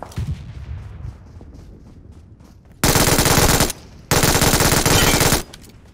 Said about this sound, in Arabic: ايه ده، في ضربة ورايا